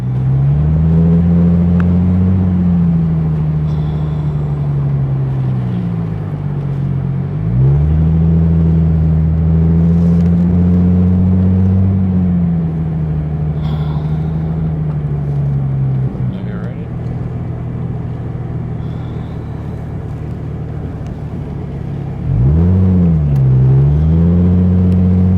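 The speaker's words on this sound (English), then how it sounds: "it's got a little bit of noise to the exhaust" A 2001 Chrysler Prowler idles with a low, steady exhaust rumble, broken by a few brief blips of the throttle that rise and fall in pitch.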